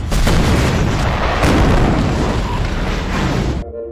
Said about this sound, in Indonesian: Ternyata ledakan tersebut cukup besar